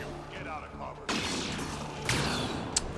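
Gunfire in the sci-fi shooter Mass Effect Andromeda, with a sudden loud burst followed by a second crackling volley and a sharp crack near the end, mixed with game ambience and music.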